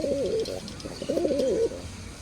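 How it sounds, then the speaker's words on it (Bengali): A male pigeon at a fancy pigeon fair gives two close, clear bursts of rolling coos, separated by a short pause, over quiet surroundings. "এই যে দেখেন কবুতরের সাইজটা দেখেন"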